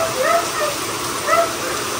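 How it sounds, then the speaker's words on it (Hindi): Heavy rain pours down outdoors in a steady, dense hiss, loud and continuous throughout, with faint bird-like chirps in the background. "देखो इतनी ज्यादा बारिश आ गई,"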